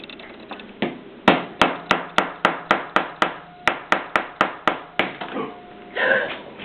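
Steady, evenly spaced tapping as a small tool chisels a stone out of a sand block on a table, about fifteen sharp, close knocks in a row with brief murmurs around them.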